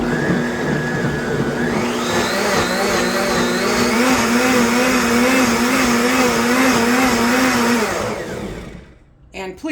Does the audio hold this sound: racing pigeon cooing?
no